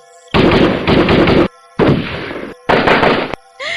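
Three long, loud bursts of simulated gunfire fired at a witch in a Hindi horror cartoon story, each blast lasting around a second with brief silent gaps between, ending in a short tonal sweep.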